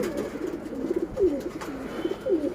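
Silver pigeons coo in a few soft, repeated rounds, close by and fairly gentle, with low rolling calls coming at a steady pace.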